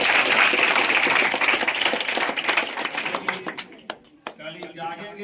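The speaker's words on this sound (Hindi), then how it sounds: "जोरदार ताली मार दो।" Loud, dense applause and clapping from an audience at a motivational speech event, sustained at first and then thinning into scattered individual claps toward the end.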